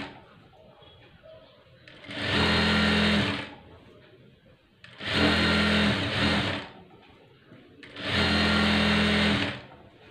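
Electric sewing machine stitching a blouse neckline, running in three sustained bursts of steady motor hum and needle clatter separated by quiet pauses, loud and close.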